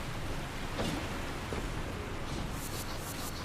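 Steady broadband rushing of a waterfall in the video game Elden Ring, a constant roar of falling water heard alone with no talk.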